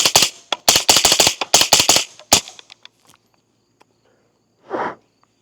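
An Extar EP9 9mm carbine fires a rapid string of sharp, close shots of subsonic ammunition at a range, followed by a few faint clicks and one softer noise after a pause.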